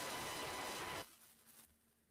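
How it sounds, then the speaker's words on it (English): Computer with a big fan emitting a steady, loud broadband whir resembling a printer for about a second, then dropping to a quieter hum with faint residual noise. "That noise sounds like a printer, Tom."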